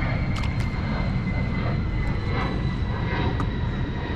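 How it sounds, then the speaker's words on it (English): Airplanes pass overhead on a tropical island, a steady, loud broadband engine roar that fills the whole stretch without letup and with no talk over it. "Man, there's some serious planes coming and going."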